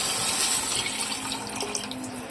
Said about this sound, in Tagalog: Lagyan na natin itong tubig.